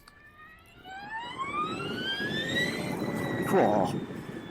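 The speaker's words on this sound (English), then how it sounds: "you might have just heard the motor start to really scream then" Energica Experia electric sports tourer motor on a twisty road, its whine climbing steadily in pitch as it accelerates hard, rising for a few seconds then leveling, with a man's brief exclamation near the end.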